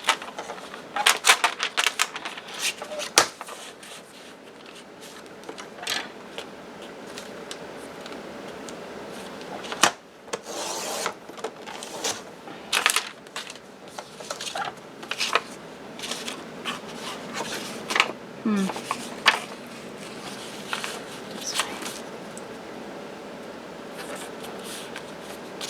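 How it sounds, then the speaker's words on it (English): Scissors snip through paper envelopes, cutting them into small 2-inch squares, with steady close crisp cuts and paper rustling continuing throughout, no voices present. "We're going to cut these envelopes up into 2-inch squares."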